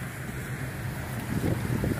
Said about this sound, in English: Look at the water coming out of that. It's just a fountain.